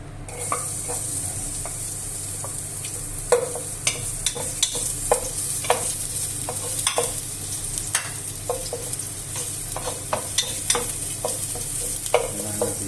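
Fried rice frying in oil in a pan, a steady high sizzle broken by frequent sharp clicks and scrapes of stirring, close and continuous.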